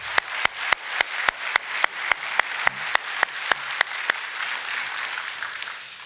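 Church congregation clapping in thanks during a Korean Sunday service: a few sharp, evenly spaced claps at first, then the whole room joining in, the claps blurring into dense, continuous applause that holds to the end.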